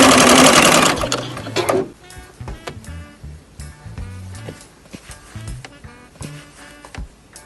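A sewing machine stitching small fabric scraps right sides together at a short stitch length, starting with a loud fast whirring run that stops, then scattered mechanical clicks and handling noises, close and without talk.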